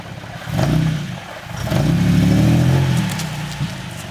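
A Nissan 370Z engine revs up twice, with a rough knocking clatter in the exhaust as it climbs and falls.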